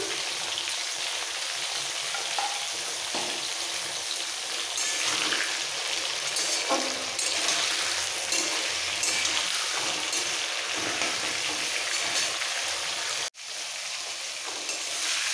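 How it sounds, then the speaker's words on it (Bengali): Vegetables frying lightly in a pan for Bengali sukto, a steady close sizzle with occasional stirring scrapes, briefly cutting out near the end before resuming, no talking. "এই সবজিগুলো হালকা ভাজা হয়ে গেছে, খুব বেশি কিন্তু ভাজবো না"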